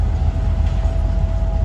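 Passenger train departing behind a GE U20 diesel locomotive, a steady low engine rumble with a faint tonal hum, close and continuous with no voices.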